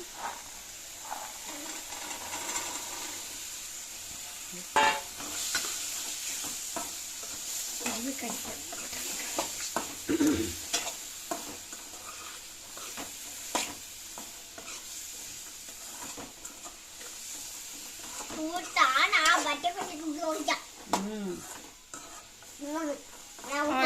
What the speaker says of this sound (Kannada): ಆ ಕಡೆ ಈ ಕಡೆ ಕಲಸ್ಬೇಕು, ಬಟಾಣಿ ಮಿಕ್ಸ್ ಮಾಡ್ಬೇಕು ಒಗ್ಗರ್ನ್ಯಾಗ